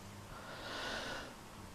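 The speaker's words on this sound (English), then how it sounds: "That's all I ever do lately is yawn." A woman's long, breathy yawn, a single drawn-out exhale rising and easing off, heard close and alone with no talking over it.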